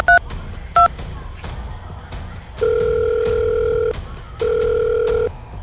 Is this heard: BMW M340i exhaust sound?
no